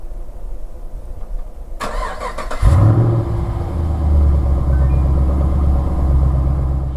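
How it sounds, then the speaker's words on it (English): A Chevrolet SS engine cranks and catches, then settles into a steady, loud idle with a deep rumble. "Let me start the car one more time"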